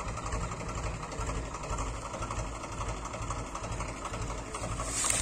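A tractor engine idles in a rain-soaked field in Shamli beside a loaded sugar-mill trolley, giving a steady, close, low chugging throb that keeps an even rhythm throughout.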